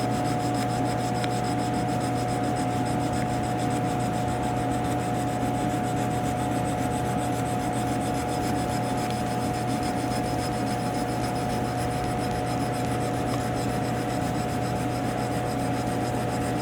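Knife blade worked on an oiled sharpening stone, a steady continuous scraping and rubbing that stays even and close throughout, with no talking.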